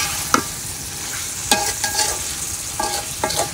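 Beef curry sizzles in a pan at a village cooking spot in Chapai, with a steady fry under repeated scraping strokes of a spoon stirring it, close and clear, and no talking.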